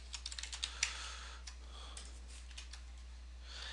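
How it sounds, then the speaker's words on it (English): Quick string of soft keystrokes on a computer keyboard as a search query is entered, a brisk cluster of clicks at the start then a few sparse taps, over a low steady electrical hum. "type in that same search string"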